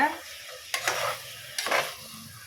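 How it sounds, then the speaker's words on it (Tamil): Coconut paste being stirred into a pot of chicken curry, with a gentle sizzle and two distinct scraping stir strokes of a spoon against the pan, close and moderately loud. "சேர்த்து ஒரு டைம் நல்லா கலந்து விட்டுக்கோங்க"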